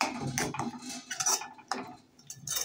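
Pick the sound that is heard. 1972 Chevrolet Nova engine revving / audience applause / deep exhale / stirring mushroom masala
stirring mushroom masala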